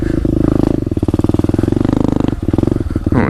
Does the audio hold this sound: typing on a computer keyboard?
no